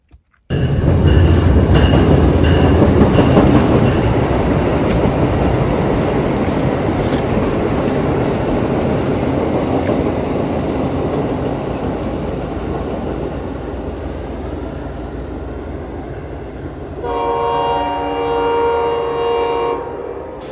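A train rumbles loudly past at close range on a trestle, a long heavy roar of wheels on rails that slowly fades, with a horn sounding near the end.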